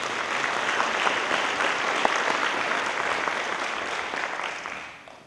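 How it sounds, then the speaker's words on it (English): Sustained applause from a conference audience at a diversity, equity and inclusion gathering, a dense even patter of many hands that holds steady and then fades out near the end. "Please give them all a round of applause."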